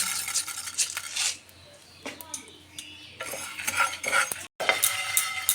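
Whole coriander seeds fry in a hot pan for a Bengali pickle while a metal spoon scrapes and stirs, bursts of clinking and sizzle broken by quieter pauses.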